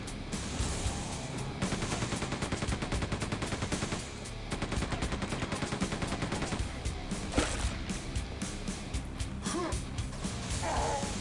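Dense, continuous gunfire from Quake II fills the space, loud and nearly unbroken with rapid rattling shots and a brief lull partway through, suggesting sustained automatic fire aimed at the player.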